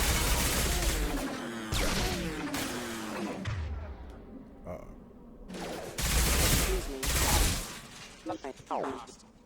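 Video game firefight in a sci-fi shooter, with bursts of gunfire and heavy blasts layered over music and effects, loud and dense. Speech is absent, and some stretches drop to quieter rumbling.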